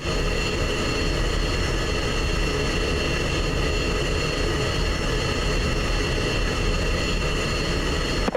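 A steady, loud F-16 jet engine rumbles and whines at taxi power in a flight simulator game, holding an unbroken drone throughout with no voices.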